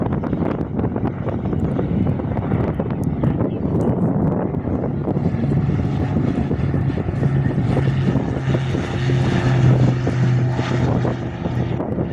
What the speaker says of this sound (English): Cessna 441 Corsair departing Jandakot, while the blue Cessna C-172 does a go around for a second attempt.